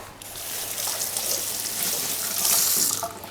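Running tap water splashes steadily into a kitchen sink as cut tomatoes are rinsed under it, a close, continuous broadband rush that swells slightly louder near the end.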